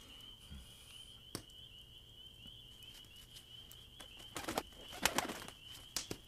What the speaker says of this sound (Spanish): ese pájaro